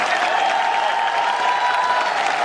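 Sustained audience clapping fills a company product-launch event, a thick, even roar of many hands that stays loud from start to finish.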